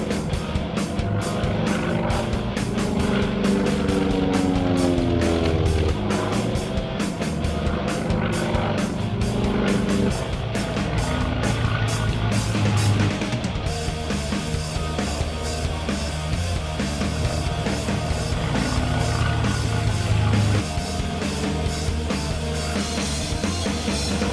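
FM2 Wildcat, a General Motors-built version of the Grumman F4F, flown by Greg Shelton at the Oshkosh 2018 airshow. Its piston engine drones loudly and steadily throughout, with a shifting pitch as the aircraft passes nearby.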